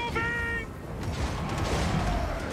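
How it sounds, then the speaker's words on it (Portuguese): Skaven artillery fire in the Total War: Warhammer 3 strategy game, a dense rumbling barrage of booms and blasts under a continuous battle din, with a brief tonal game cue at the start. "um monte de tiro aí de artilharia Skaven, que é bem forte"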